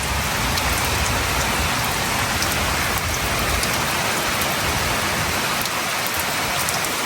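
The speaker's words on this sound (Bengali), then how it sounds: "জোরে বৃষ্টি শুরু হয়ে গেছে।" Heavy rain pours steadily during an outdoor village cooking session, a dense, continuous roar of drops hammering surfaces, close and loud throughout with no voices.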